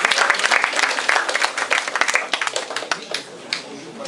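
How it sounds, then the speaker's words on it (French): Audience applause for a group of girl judo cadets at a diploma ceremony, steady clapping from a crowd through the whole stretch with voices mixed in underneath. "on peut les applaudir"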